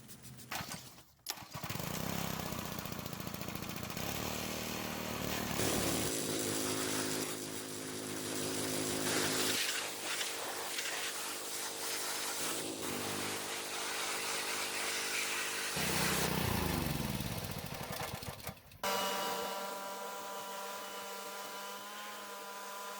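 A petrol-engined lawn vacuum that starts and runs but barely picks up leaves drones steadily and loudly up close, its engine note shifting pitch and load several times, with no one speaking.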